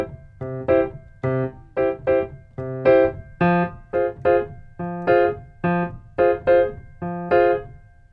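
Both hands play a syncopated groove over a two-chord progression on a keyboard instrument, with clipped chord stabs and bass notes in an offbeat rhythm, close and clear with no voices.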